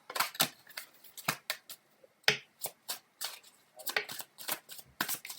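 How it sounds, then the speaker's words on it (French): Tarot cards are shuffled by hand in a series of crisp, close riffling snaps and flicks, irregular bursts separated by brief pauses, fairly quiet with no talking. "on commence à battre le tarot et on va voir quelles sont les cartes qui sortent"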